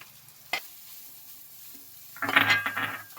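Marinated minced fish keema goes into a hot pan and starts frying, a short clatter followed by a loud burst of sizzling near the end, with a quieter bump earlier.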